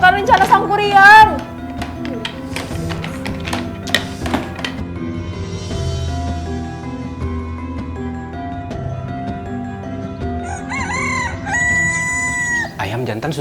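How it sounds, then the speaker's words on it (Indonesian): A rooster crows loudly at the start and again near the end, with hens clucking, while voices and a musical background play beneath in an animated retelling of a Sundanese legend. "Ayam jantan sudah berkokok"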